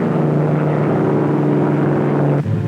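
Propeller airplanes roll off British airfields for D-Day, a loud continuous droning engine roar with a steady low hum that shifts pitch abruptly near the end.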